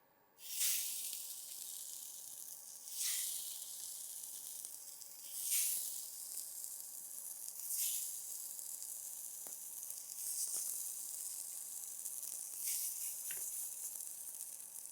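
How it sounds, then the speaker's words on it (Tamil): Rava cheese tikki patties sizzle steadily on a hot dosa griddle, with a constant bright hiss and a few sharper bursts of crackle as pieces settle onto the iron, close and alone. "இப்போ வந்து தோசைக்கல்ல காய வச்சுருக்கேங்க இதில் இதை எடுத்து வைக்கலாம்"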